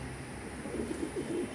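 Fancy pigeons in a home loft give soft, low cooing calls that repeat several times, fairly quiet against a steady background hum, with no voices.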